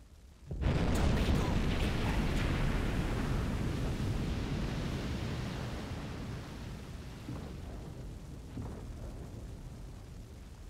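Torpedo hits exploding against a ship in the Silent Hunter 5 submarine game, a sudden deep booming blast that rolls on as a long, slowly fading rumble, with a voice faintly under it.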